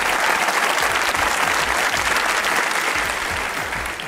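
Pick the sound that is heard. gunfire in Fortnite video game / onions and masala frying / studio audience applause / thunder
studio audience applause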